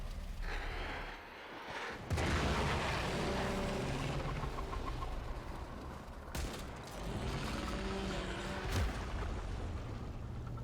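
An explosion in the video game Warframe makes a loud, dense rumbling roar over about ten seconds, with sharp bursts around two, six and nine seconds and no voices over it.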